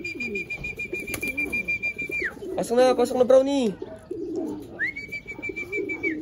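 Racing pigeons coo at a loft as birds arrive from a race, soft throaty calls close by, mixed with someone talking and a steady electronic tone.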